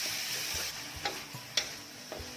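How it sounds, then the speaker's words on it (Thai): Minced pork stir-fries in a pan with a steady sizzle, broken by a few scraping stirs of a spatula spaced about half a second apart. "เราจะผัดหมูให้สุกสัก แปดสิบเปอร์เซ็นต์นะคะ"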